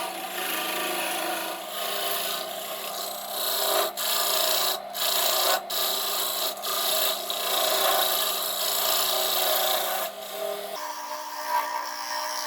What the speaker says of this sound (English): want to get the hollowing out of the other end done before I finalise the outside shape